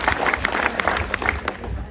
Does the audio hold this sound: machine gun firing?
no